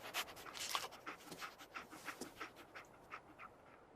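A dog in the video game Fallout 4 pants in quick, steady breaths for a few seconds, heard alone and moderately close with no speech over it.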